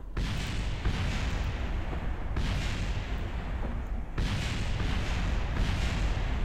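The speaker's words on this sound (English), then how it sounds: "we are literally bombing the Space Center. Hopefully things don't blow up" Bombs land on the Space Center in Kerbal Space Program: a continuous, loud, rumbling roar of explosions, with fresh blasts swelling at regular intervals and no talk over it.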